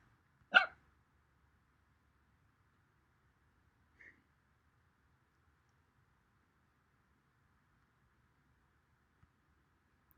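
A single short, sharp puppy bark from a Scratch interactive pet project rings out near and alone at the start, followed by a faint brief blip and then quiet.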